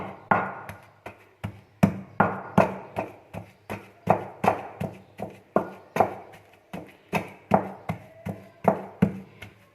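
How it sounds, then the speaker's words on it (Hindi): Spices and chicken for shami kabab are pounded by hand with a steady, even rhythm of roughly twenty heavy thuds, close and unbroken, with no talking. "तो अब इसको भी कूट के फिर हम सारा इकट्ठा एक जगह पे मिक्स कर लेंगे"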